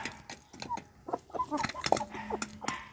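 A red hen and roosters cluck and peck while feeding at night, with short irregular clucks and soft calls close by, mixed with scattered quiet rustling.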